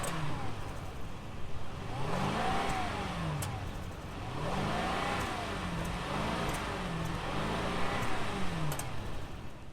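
A 2021 Mercedes-Benz S 580 luxury sedan's engine is blipped repeatedly while parked, several rising and falling revs in a loose rhythm over a noisy, fairly close background.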